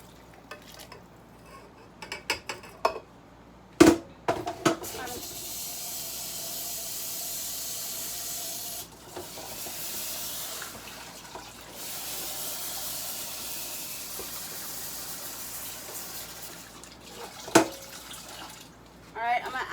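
Boiling liquid is poured in while making salsa verde, giving a hissing, steamy rush with splashes and clatters at the start and end and a continuous sizzle in the middle.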